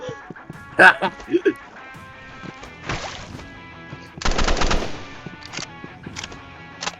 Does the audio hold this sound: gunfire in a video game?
yes